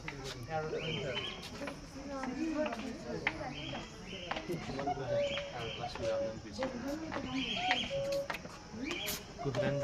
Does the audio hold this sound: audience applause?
no